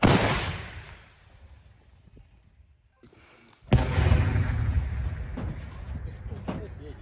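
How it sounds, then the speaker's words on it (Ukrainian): A 2S1 Gvozdika self-propelled howitzer fires, a heavy blast booming suddenly after a quiet stretch, followed by a long rumbling echo and a second fainter thump. "тільки що ви побачили стрільбу з 2С1 гвоздіки"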